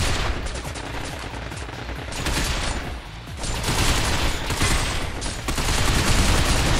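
Sustained automatic gunfire in the video game Binary Domain, dense overlapping bursts of shots rattling almost continuously, loud and close, with small dips in intensity between volleys.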